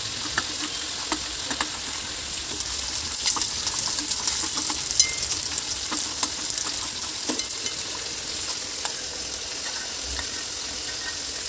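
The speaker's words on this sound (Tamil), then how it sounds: "இந்த 20 காஞ்ச மிளகாவை ஃப்ரை பண்ணி எடுத்துக்கோங்க எண்ணெயில்" Twenty dried red chillies fry in oil in a kadai with a steady, moderate sizzle and scattered crackles and pops, plus a faint metal clink or two, heard alone without talking.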